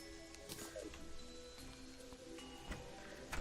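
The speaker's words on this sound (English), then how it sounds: "And now it's just raining like normal." Steady rain hiss falls in the video game Terraria, a faint continuous patter with soft tonal game sounds layered over it.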